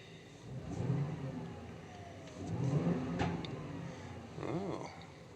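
A 2011-16 Ford F-250 with the 6.2-litre gas engine and a K&N Series 77 cold air intake is revved in three separate throttle blips, each swelling and falling back to a low idle rumble. It is heard from a moderate distance, without talk.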